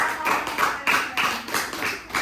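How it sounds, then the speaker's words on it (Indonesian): A small group claps for a team of presenters in a classroom training session, giving a brisk series of rhythmic, evenly spaced bursts of clapping. "Tepuk tangan untuk kelompok 3"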